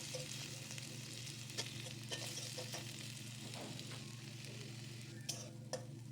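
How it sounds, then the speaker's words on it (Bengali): Potatoes frying in hot oil for a soybean and potato curry, a steady close sizzle with occasional soft stirring scrapes and taps. "তারপর আমি এখানে দিয়ে দিচ্ছি কয়েকটা আলু যেটা আমি একটু লাল করে ভেজে নেবো"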